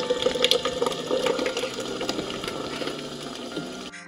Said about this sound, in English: So now it's grabbing some more water, and what it's going to do, it's going to mix it again.